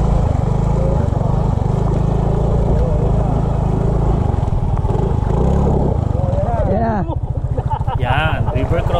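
A motorcycle engine runs loudly during a river crossing, churning steadily with water splashing. Its tone shifts toward the end as people talk over it.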